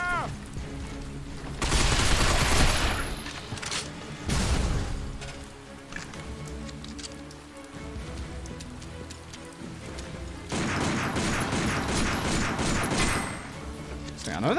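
Gunfire in the third-person shooter Binary Domain: two loud, rattling automatic bursts separated by quieter stretches of scattered shots and background game noise.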